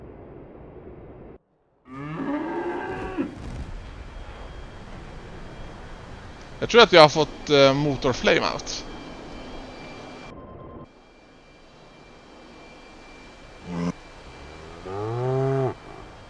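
Cows lowing in the DCS combat flight game after a Saab Viggen strafing run, several separate moos spread across the stretch, one a loud wavering call, with someone talking between them.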